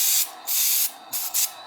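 Lubricant sprayed from an aerosol can onto model railroad track, three or four close, loud hissing bursts with short pauses between them and no talking.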